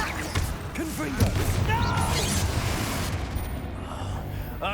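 A Confringo fire spell goes off in the game Hogwarts Legacy, heard as crashing, booming blasts with clattering debris, mixed with game effects and a voice speaking over it.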